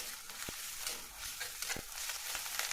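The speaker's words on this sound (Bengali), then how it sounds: "সামান্য একটু রসুনও দিয়ে দিলাম এর সাথে, দিয়ে এটাকে কষিয়ে নিচ্ছি।" Spice paste with garlic sizzles and fries in a pan for a katla fish curry, a soft steady hiss broken by a few sharp clicks of a spoon stirring, with no talk.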